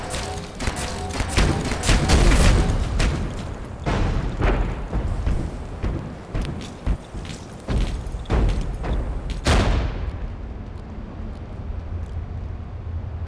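An enemy's mortar fires in Abiotic Factor amid a string of heavy thuds and booms, with one sharp, loud blast standing out near the end before a lingering low rumble.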